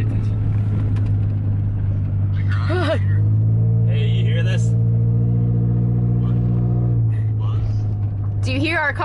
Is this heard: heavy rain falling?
no